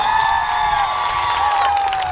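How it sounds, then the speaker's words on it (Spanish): A festival crowd at an anniversary celebration in El Naranjo, San Luis Potosí, cheers and claps loudly, with shouts and a steady wash of noise. "¡Un aplauso!"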